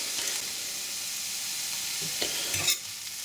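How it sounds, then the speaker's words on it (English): Garlic and onions fry in a pan for Greek moussaka, a constant close hiss of sizzling with a few stirring scrapes and clinks near the end. "We'll just give it a couple of minutes to cook the garlic so that the garlic softens."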